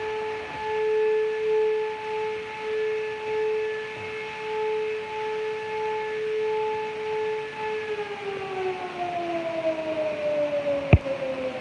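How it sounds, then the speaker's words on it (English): A distant civil defense siren in the Japanese countryside holds a long, steady wail, then slowly drops in pitch near the end. "And that was a siren, probably in Fukushima."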